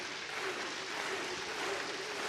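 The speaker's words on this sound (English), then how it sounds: "Fans clapping." Fans clap in a steady, moderately loud wash at a Hawai'i versus BYU men's college volleyball match, with the applause sustained and even throughout and no voices standing out.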